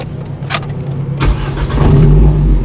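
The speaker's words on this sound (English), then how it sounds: "should I just get it started and warm up the engine?" An Alpine A110 R Ultime sports car engine turns over and fires, then settles into a loud, close, steady low rumble as it warms up, with a few clicks and bumps beforehand.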